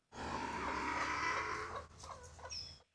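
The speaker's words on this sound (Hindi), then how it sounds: "एक मुर्गी अभी अभी पिंजरे से बाहर भागी है।" A chicken clucks and squawks loudly and continuously near a cage in a small abandoned zoo, a dense agitated burst of fowl calls that thins into a few separate clucks at the end.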